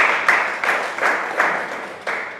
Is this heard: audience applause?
yes